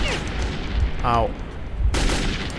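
Gunfire in the PC shooter Metro 2033 comes as a few sharp, loud shots in quick bursts, mixed with game sounds.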